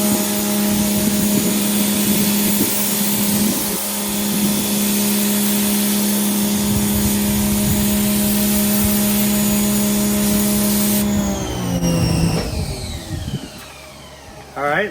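A car-wash machine sprays rinse water in a steady, loud hiss with an underlying motor hum, running continuously before a switch is flipped and the pitch drops and fades.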